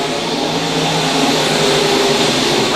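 USRA B-Mod race cars roar around Lakeside Speedway in a loud, sustained engine blare, with the pitch rising and sweeping as the cars pass near.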